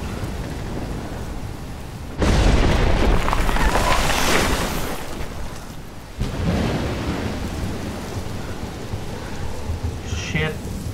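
Heavy thunderstorm in the video game Life Is Strange, set in Oregon: a loud crack of thunder opens into a roaring rumble over steady rain, followed by a second booming roll that fades into continuous downpour.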